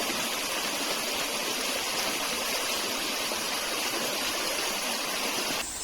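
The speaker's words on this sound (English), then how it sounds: "it's right up against the creek, so I get to listen to this all night" Creek water rushes and babbles steadily and close by, a dense continuous flow with no other sounds over it.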